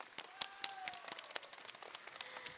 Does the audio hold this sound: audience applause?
yes